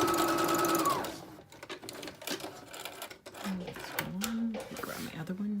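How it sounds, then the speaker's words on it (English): A sewing machine stitches an arm seam on a knit tee in a short, steady mechanical run that stops after about a second, followed by handling clatter and a voice talking. "I'll just sew straight down to sew the arm seam on each one."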